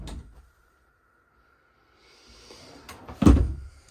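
A pull-out drawer in a 2023 Hemisphere 370BL RV slides and knocks shut nearby with a single solid thud, after a brief rolling scrape and a quiet stretch before it.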